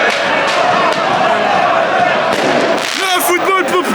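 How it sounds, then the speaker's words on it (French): Fireworks and firecrackers crack and bang amid a loud, dense crowd in the stands at a National 2 football match with Rouen fans, with chanting and shouting throughout. "S'il vous plaît, cessez les feux d'artifice"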